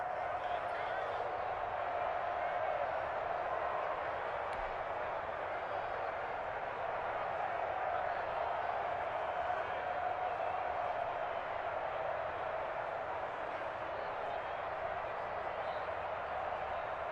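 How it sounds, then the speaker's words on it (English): Stadium crowd noise from Madden NFL 21, a steady roar of fans building ahead of a big third down, filling the background evenly throughout without distinct peaks. "the crowd getting into it as we come up on a big 3rd down"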